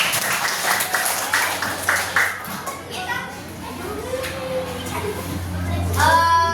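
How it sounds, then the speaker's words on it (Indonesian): Grade six pupils in an Indonesian language class clap in a quick rhythmic pattern of sharp, evenly spaced claps, then fall quiet as children's voices and talk take over, with a brief noisy burst of activity near the end. "tepuk tangan"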